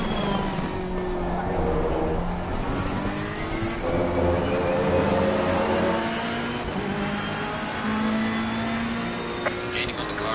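Race car engine in the video game Assetto Corsa Competizione on PS4 at Kyalami, a continuous whining engine note rising and falling through gear changes, with other cars nearby and a faint voice over it.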